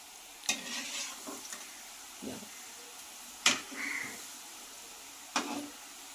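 Butter balls frying over medium heat give a low, faint sizzle, broken by four distinct sharp bursts of stirring spaced a second or so apart.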